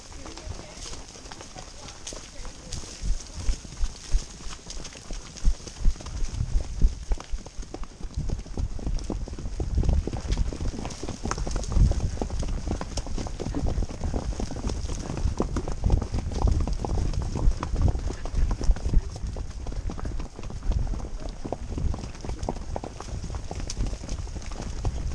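Horse hooves clip-clop steadily throughout as a rider tries to rein in a hard-to-control horse wearing a bit, on a steep hill ride, with people talking over the rhythmic hoofbeats.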